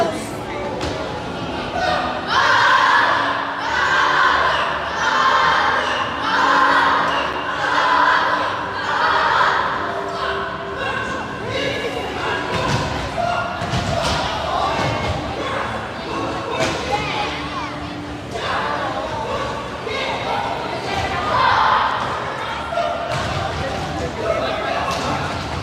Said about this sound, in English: We're going to clap it off and say whatever you want to say